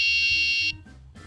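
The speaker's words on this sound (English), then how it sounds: "It beeps 3 times to give me this warning." A DIY home alarm emits a loud, piercing electronic beep held steadily before cutting off, followed by quieter short tones and low background sounds as it arms.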